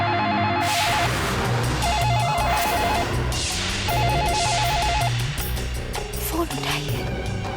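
A telephone bell rings loudly in repeated bursts inside a household, set against a busy, cluttered background of music and other sound from a Hindi TV drama scene.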